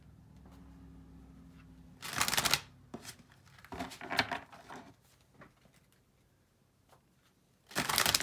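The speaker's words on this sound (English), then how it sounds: "I'm going to shuffle real quick." Quick riffling bursts of a card deck being shuffled, three separate flurries with softer handling sounds between them, close and otherwise quiet.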